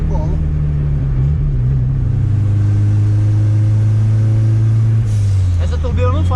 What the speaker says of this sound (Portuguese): Essa turbina não faz barulho de turbina, velho.